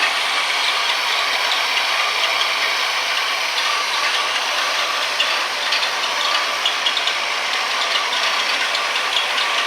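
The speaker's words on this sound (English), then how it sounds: "the big news today is your engine is now running" A 1965 Ford Mustang engine idling steadily after starting, with a continuous mechanical clatter and rapid ticking that stays close and even throughout, carburetor still untuned and belts slightly loose.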